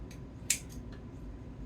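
A single sharp snip of kitchen scissors cutting through raw bacon slices, close and brief, with faint quieter snips around it over a low steady background hum.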